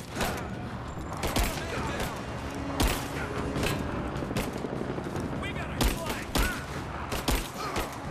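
Gunfire in the video game Rise of the Tomb Raider, loud bursts and rapid volleys of shots amid a busy combat soundtrack, with players talking throughout.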